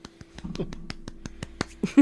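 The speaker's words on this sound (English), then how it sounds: "Here, clap." A person claps their hands about a dozen times in an even, steady rhythm. The claps are close and crisp against a quiet room.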